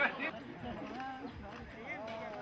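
A horse clip-clops along a riverside road in northern Vietnam, hooves faint beneath a steady voice talking over them.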